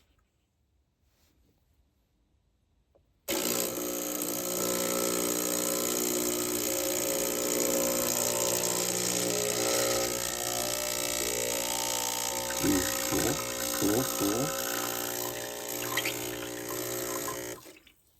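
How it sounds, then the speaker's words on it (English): A Gaggia Classic Pro espresso machine pump kicks on abruptly after near silence, a loud steady vibrating hum as water is drawn into the group head, running for about fifteen seconds with a brief spoken word partway through before cutting off. "I'm going to try to pull some water into the group head."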